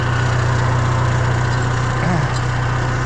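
A John Deere 2020 tractor engine runs steadily while clearing brush, a loud, close, even mechanical drone with a constant low hum throughout and no break.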